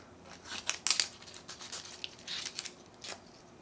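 A small piece of stretchy silicone self-fusing tape is cut with a blade or scissors, giving a few quiet snips and crinkles close by in a quiet room.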